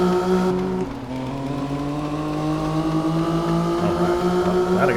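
Engine of a snow vehicle revving loud and close in a snowy setting, a steady droning roar with rising pitch that climbs through the clip without pause.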